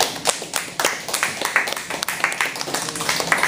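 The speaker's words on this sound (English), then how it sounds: "So let's give them a round of applause." Scattered applause from a small audience honouring a school research project: sparse, uneven hand claps at close range for several seconds, with some voices mixed in.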